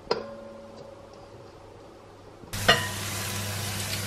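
Minced meat with spices and parsley hits a pan partway through, bursting into a loud, steady sizzle after a quiet stretch with a faint hum and a single click at the start.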